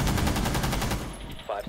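Rapid automatic gunfire from the Rainbow Six Siege video game, a loud close burst of evenly spaced shots that stops after about a second, followed by brief voice sounds.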